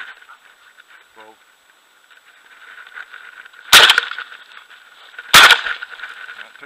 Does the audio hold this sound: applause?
no